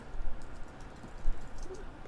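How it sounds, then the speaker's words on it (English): Clicking keystrokes on a computer keyboard, quiet and close, in uneven bursts with short pauses between runs of typing. "Sorry, you're gonna hear typing."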